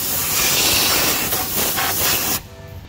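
Brake cleaner sprayed onto a white oil filter on a 6.7 engine: a steady close hiss lasting a couple of seconds before cutting off abruptly.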